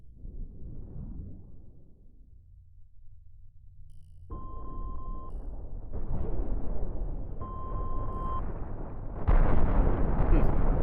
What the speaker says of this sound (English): That missile severed the vessel in half.